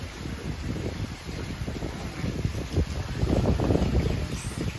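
Strong typhoon wind in Japan buffets the microphone in continuous gusty rumbles, building slightly louder toward the end, with no voices.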